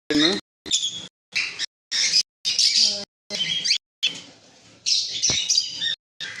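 Pet conures and lovebirds squawk and chirp loudly in short repeated bursts, harsh shrill calls overlapping close by with brief gaps between them.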